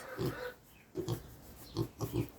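Pigs grunt in several short bursts, close by and fairly soft, with brief pauses between the grunts, while eating.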